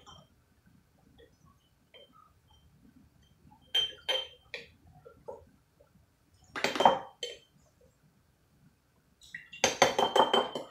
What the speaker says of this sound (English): get the lemon juice, add it to each one of these jars while I'm waiting.